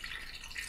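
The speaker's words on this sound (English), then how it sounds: "Cold water all over them, just like this." Cold water poured over pork side ribs in a pot before blanching makes a brief, steady, close rushing splash, with no talking.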